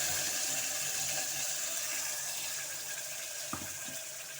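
Water pours into a pot of banana stem soup, a steady faint splashing stream that softens toward the end, with a couple of light clinks near the finish.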